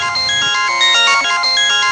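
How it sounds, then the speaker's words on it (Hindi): A mobile phone ringtone plays loudly and alone, a bright repeating melodic pattern that carries on steadily for the whole stretch. "अब किसका फोन है यार?"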